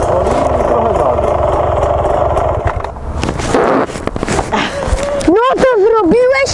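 Beta 300 dirt bike engine running at close range, a rough steady two-stroke drone that dips and revs, with voices talking over it and a voice rising near the end.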